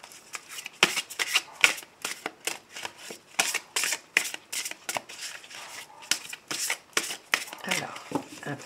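Tarot cards are shuffled for a card reading in a rapid run of crisp riffles and flutters, repeated bursts close up and moderately loud, with a voice speaking faintly at points.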